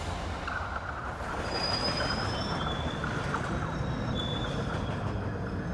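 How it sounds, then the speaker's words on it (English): Subway trains run along the track with a continuous heavy rumble of wheels on rails, punctuated by faint, thin metallic squeals, steady and fairly close. "every day, over 500 trains, running on 250 miles of track, move nearly 3 million people"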